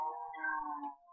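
A cat meows once in the blocky sandbox game Minecraft, a clear, drawn-out tonal mew that bends in pitch and tails off, close and alone with no talking.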